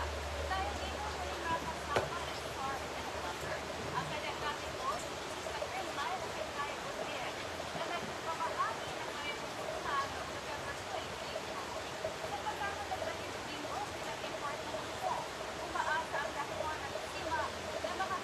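Water flows steadily at Hinaguan Nature Park, making a faint, continuous broadband rush like a small waterfall or stream, with the low murmur of people faintly in the background.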